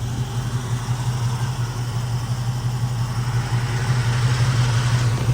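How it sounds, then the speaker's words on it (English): A 1968 Chevrolet Camaro engine idles steadily with a low, even hum and a slight rise in loudness toward the end. "Motor sounds great."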